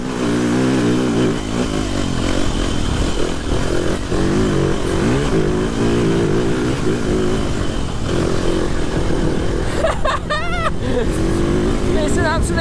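A TM 300 four-stroke motorcycle engine revs hard on a wet track, a loud, continuous roar rising and falling with throttle changes, with brief excited exclamations over it near the end.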